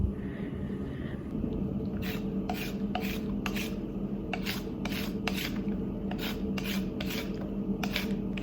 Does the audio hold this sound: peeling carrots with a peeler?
yes